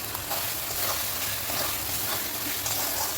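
Tomato masala seasoned with salt sizzles loudly in a pan while being stirred, a dense continuous frying hiss with soft scraping accents.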